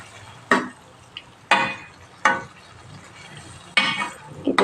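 Watermelon-rind tutti frutti pieces being stirred in sugar syrup, with four or five distinct scraping, clinking strokes of a spoon against the pan, separated by quiet pauses.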